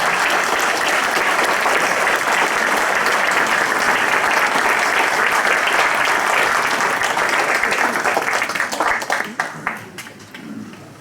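A crowd at the inauguration of the Agerraldi hall in Hélette applauds the financial partners: loud, dense clapping that holds, then thins into a few scattered claps as voices come up.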